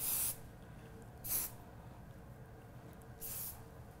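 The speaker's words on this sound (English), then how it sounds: "And is that just a finishing spray that you're putting on? It's just a hairspray." Hairspray hisses from an aerosol can onto styled hair in three short, close bursts separated by pauses, with no talking.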